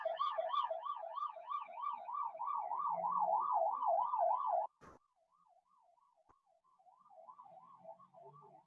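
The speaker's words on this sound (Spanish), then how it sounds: "Un momento que está pasando la ambulancia por mi casa." An ambulance siren wails past a house in a loud rising-and-falling cycle, then cuts sharply and continues much fainter in the distance as it moves away.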